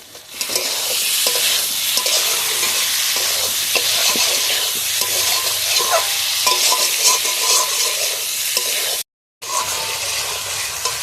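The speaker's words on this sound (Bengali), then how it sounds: "এবার আমি কেটে রাখা টমেটোটা দিয়ে দেবো।" Chopped tomato in a frying pan sizzles loudly and steadily while a utensil stirs and scrapes through it, with one brief break in the hiss.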